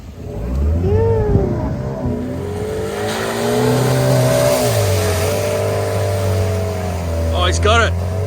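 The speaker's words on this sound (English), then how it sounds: "we've got these Hilux legends sending it deep in the Ellenbrook Pines in Perth" Toyota Hilux trucks, one a V8 build, rev hard through a muddy pit in the Ellenbrook Pines near Perth, engines droning and surging loudly and close, with a shout near the end.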